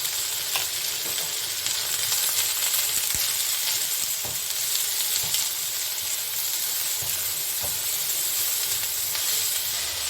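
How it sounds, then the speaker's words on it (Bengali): Onion frying in a pan with turmeric powder and chili, a continuous bright hiss and sizzle with occasional light spatula taps, steady and close, no voices. "একসঙ্গে আমি এটাকে ভেজে নেব, এটার সঙ্গে পেঁয়াজের সঙ্গে"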